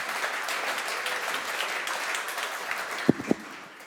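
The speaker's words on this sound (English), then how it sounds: "Please give them a warm hand of applause." Audience applause at a climate change conference as speakers are welcomed, a steady wash of clapping from a crowd throughout, moderately loud and even, with a couple of sharper knocks near the end.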